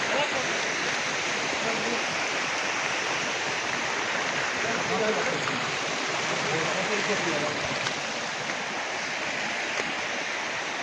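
A natural village waterfall in Mardin roars with a dense, continuous rush of falling water, loud and close, steady from start to finish.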